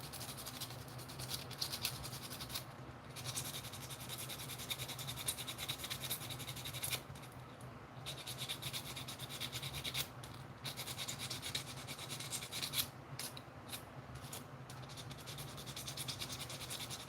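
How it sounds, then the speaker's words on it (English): Coarse sandpaper scuffs rods before gluing, a continuous close rasping rub with short pauses between strokes, steady and fairly quiet with no talk. "I like to scuff up the rods before I epoxy them, so the glue has something to stick to."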